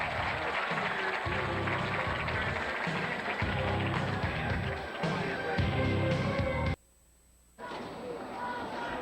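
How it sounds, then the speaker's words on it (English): Crowd noise fills the Metrodome at a 1993 Prep Bowl high school football championship as fans in the Spartan section stand and cheer after a touchdown, steady and broad with a play-by-play voice over it before a brief silent gap. "they're standing and cheering in the Spartan section"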